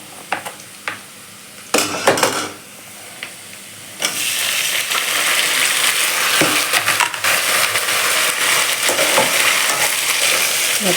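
Tomatoes and onions fry in a village-style kadai: a few clinks and stirring scrapes, then a loud, steady sizzle as the tomatoes hit the hot oil, close up with no talk.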